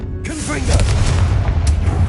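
A Confringo blasting spell in Hogwarts Legacy goes off with a loud, deep boom and a long rumbling tail, close and heavy, after a brief fizzing lead-in.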